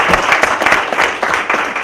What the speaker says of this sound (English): He and his team deserve a big round of applause